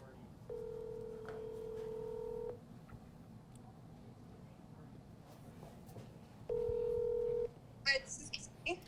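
Telephone keypad tones sound while dialing a real estate agent: two sustained electronic tones separated by a quiet gap, clear against a faint background hum.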